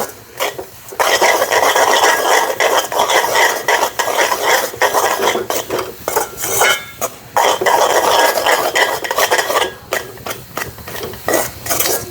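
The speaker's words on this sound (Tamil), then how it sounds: "கைவிட்டீங்கன்னு சொன்னால் அடிப்பிடிக்காமல் வடிவாக கிண்டவும்" Coconut milk toffee mixture with grated coconut is stirred steadily in a pan, giving a continuous loud scraping and bubbling sizzle with frequent utensil scrapes against the pan bottom, heard alone without talk.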